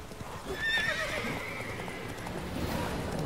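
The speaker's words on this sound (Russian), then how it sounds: "Просто лошадь буянит." In The Witcher 3 video game, a restless horse clip-clops along at a steady gait and lets out a shrill whinny, close and clear, with no talking.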